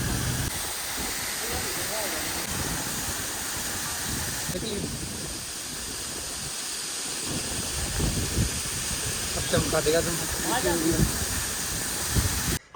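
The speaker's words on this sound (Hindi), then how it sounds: "ये वाला झरना जब मैं पानी भरने के लिए वहां जा रहा हूँ ना, अब मेरे सिर पे पड़ रहा है सारा का सारा पानी" A waterfall on a snowy mountain trip pours down in a steady, loud hiss of falling water and spray close by, with someone talking over it toward the end.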